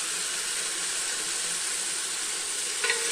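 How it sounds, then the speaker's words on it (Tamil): Drumstick pieces sauté in a pan with onion and coriander, giving a soft, steady sizzling hiss that runs throughout, with a brief clink near the end. "போட்டு நல்லா வதக்கிக்கலாங்க"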